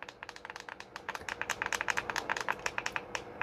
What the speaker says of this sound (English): Function button loud and clicky.